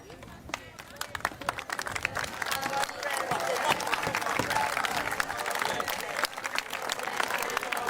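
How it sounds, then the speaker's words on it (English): A village crowd in Waramuri, Guyana claps and cheers steadily throughout during a presidential visit, with voices mixed into the dense applause. "Come here, cheer again,"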